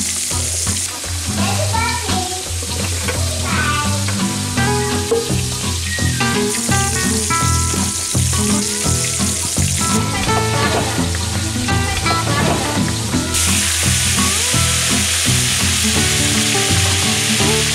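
Homemade cube steaks fry in a pan with a steady, dense sizzle that runs loud and unbroken throughout, with a busy clatter of kitchen activity layered over it.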